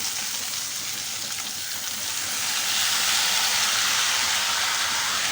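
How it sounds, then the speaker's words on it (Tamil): A little water goes into a hot pan of frying ivy gourd, and a steady steamy hiss builds up and grows louder about halfway through, with no one talking. "கொஞ்சமாக தண்ணி ஊற்றுப்போம்"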